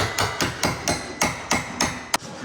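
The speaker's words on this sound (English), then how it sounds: "Is that a hammer? This is my favorite tool." Steady hammer strikes while fitting parts to a Honda Talon, about seven evenly spaced metallic blows, close and fairly loud, with a sharper tap near the end.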